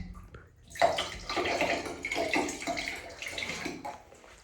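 Water splashes and gurgles from a fully drained hot water heater while an RV is being winterized, an irregular close-up sloshing that swells after a quiet start and ebbs toward the end.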